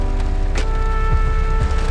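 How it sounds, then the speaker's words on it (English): Rain falling outdoors, a steady broadband patter filling the whole stretch with no talk, a constant wet hiss with faint low thumps underneath. "It's the only day this week it's gonna rain though, so let's go get wet"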